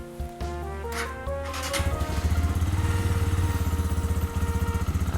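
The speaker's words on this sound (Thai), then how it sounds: "ท่อเดิมจะประมาณนี้เลยนะครับโอบิดติดมือมาก อ่า เสียงท่อเดิมจะประมาณนี้เลย" A 2020 GPX Demon GR200R motorcycle with its stock exhaust starts up and then idles with a steady, close, even throbbing pulse, a small single-cylinder note with no talking over it.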